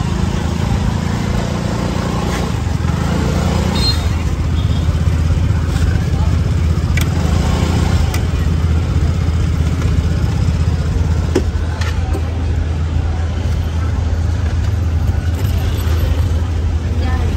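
A motorbike engine runs loud and steady while being parked, a continuous low rumble with voices talking over it.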